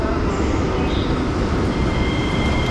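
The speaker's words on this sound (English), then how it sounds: "once the subway starts moving" A subway train in a Bulgarian metro station rumbles and rolls as it begins to move, a loud, steady, close mechanical roar with faint high squeals.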